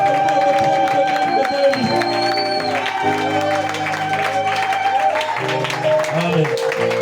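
A church congregation at an apostolic tabernacle applauds and cheers to welcome the prophet, with steady crowd clapping and acclamation mixed with voices and music-like tones throughout.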